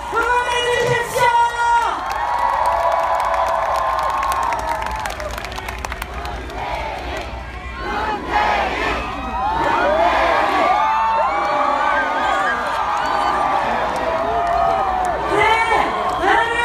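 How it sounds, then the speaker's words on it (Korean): Large outdoor crowd at a presidential election rally in Gwanghwamun, Seoul, cheering, whooping and clapping continuously, loud and dense with shouts rising and falling throughout. "크게 환영의 박수, 격려의 박수, 우리와 같은 함성으로"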